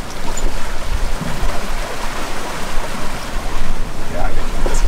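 Loud rushing water and waves wash around a sailboat amid wind on an ocean crossing to the Gambier Islands, French Polynesia, with a voice briefly talking under the noise.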